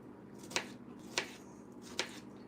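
Knife cutting a strawberry on a board in a home kitchen, three soft, evenly spaced chops over a quiet room hum.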